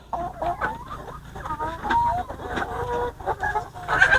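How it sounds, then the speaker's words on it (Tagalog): Dominican hens ready to lay eggs cluck repeatedly in short, busy bursts from several birds close by, with occasional louder squawks. "Yan, Dominican chicken na ready to lay."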